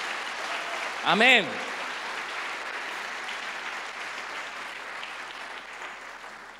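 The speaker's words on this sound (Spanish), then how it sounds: "Yo pensé que alguien iba a dar un aplauso al Señor por eso" A church congregation applauds steadily at a sermon, a continuous wash of clapping with a loud voice calling out briefly near the start.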